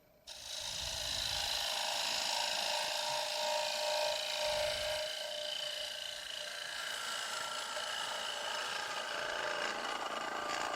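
A woodturning tool chatters against wood spinning on a lathe, the tool rest set far out; a steady, close, rasping scrape runs continuously for the whole stretch after a brief quiet start.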